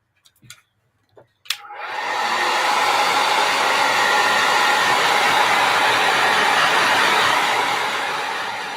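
A hair dryer drying mixed media paint layers switches on after a few clicks and blows as a loud, steady, close rushing whoosh that holds for several seconds.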